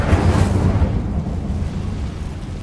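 The Incendio fire spell in Hogwarts Legacy erupts in a loud burst of flame that starts with a deep whoosh and then settles into a rumbling roar that slowly fades.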